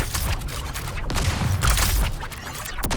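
A grenade explodes in the video game Overwatch amid a continuous rumble of booms and crackling blasts, loud and dense across the whole stretch with no clear pauses.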